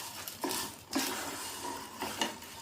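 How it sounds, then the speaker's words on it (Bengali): A spoon stirs vermicelli frying in ghee in a pan, giving a few soft scraping clinks against the metal over a low, steady sizzle, close and fairly quiet. "একটু নাড়াচাড়া করে ঘিতে ভালো করে ভেজে নেব।"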